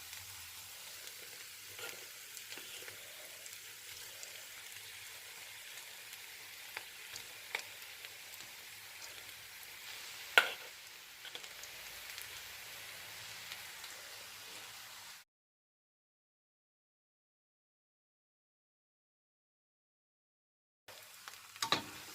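Rice and vegetables being gently stirred together in a pan for Chinese fried rice: a steady sizzle with scraping stir strokes for about fifteen seconds, one sharp clack midway, then silence before a brief return.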